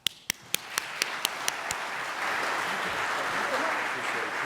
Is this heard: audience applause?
yes